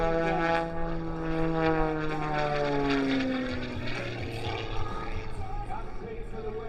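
A propeller airplane at an air show pitches its nose steeply up for a tail slide. The engine's drone falls in pitch as the plane climbs and slows, heard from a distance over open-air crowd noise with a commentator talking.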